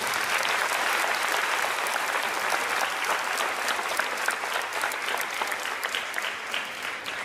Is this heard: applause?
yes